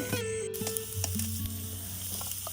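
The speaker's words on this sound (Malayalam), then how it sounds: "നമ്മൾ കറിവേപ്പിൻ്റെ ഇല ഇട്ട് കൊടുക്കണം പിന്നെ മഞ്ഞൾപ്പൊടി ഇടണം അത് കഴിഞ്ഞ് ജീരകം അതിലേക്ക് ചേർക്കുക" Curry leaves, turmeric and cumin hit hot oil for a Kerala-style mathanila (pumpkin leaf) thoran, giving a loud, steady close-up sizzle with occasional stirring clatter throughout.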